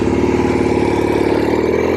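A 1967 Norton P11 motorcycle with an Atlas engine revs loud and close, a steady, rattly, throbbing drone holding high without a break.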